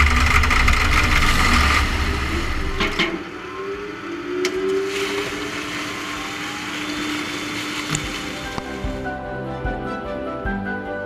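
Grundfos submersible propeller pumps at a drainage pumping station churn with a loud, broad rush of water and machinery, then settle into a steadier, lower turbulent wash with occasional knocks.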